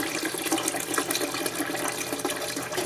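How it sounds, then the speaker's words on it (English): Tap water running into a pressure canner pot, a dense steady splashing and gurgling stream, close and continuous with no talk. "So that's why we put water in."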